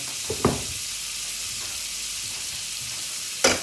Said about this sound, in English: I'm just going to get that butter just melting around in the wrap pan